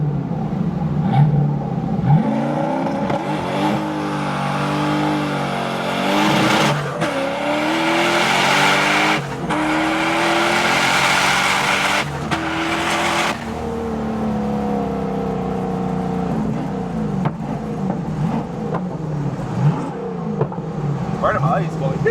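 An LS V8-swapped BMW E46 drifting, its engine revving hard and rising in pitch as tires squeal loudly through the slide, with people talking over the steady roar.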